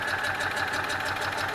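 A Citroën 2CV engine idles with a fast, even, chattering pulse, a quiet steady mechanical beat heard close and alone.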